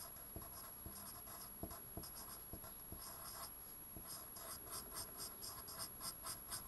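Faint pen or pencil scratching on paper as a math formula for rectangle area is written out by hand, soft irregular strokes and taps in a quiet room with no talking.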